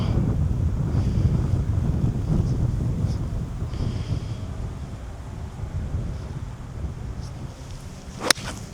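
Steady wind buffets the microphone on an open golf course, a loud continuous low rumble with gusty swells and no talking; a short sharp click sounds near the end.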